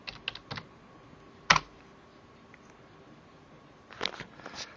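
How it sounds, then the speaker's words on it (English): Typing a search on a computer keyboard: a few light key taps, a sharper burst of clicks, then another quick flurry of keystrokes near the end, close and fairly quiet in a still room. "So I'll just type Margate toilet sim."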